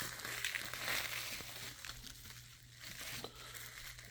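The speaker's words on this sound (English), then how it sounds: "let's unwrap." An eBay package holding an Apple iPad 3 is unwrapped, with soft, continuous crinkling and rustling of packing material close by, plus a few small crackles and tears, and no talking.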